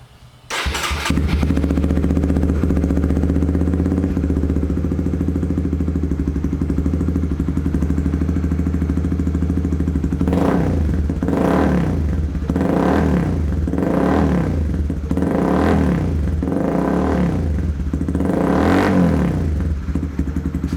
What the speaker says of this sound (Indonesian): Jadi langsung aja kita dengerin suara knalpotnya si Bunga.